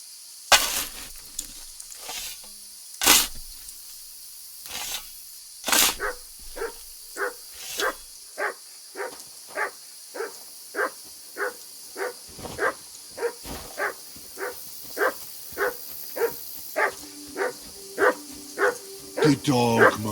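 A dog barks in the Kingdom Come Deliverance 2 video game, a long run of short, evenly spaced barks, close and clear, over a faint background hum with a few louder irregular knocks early on.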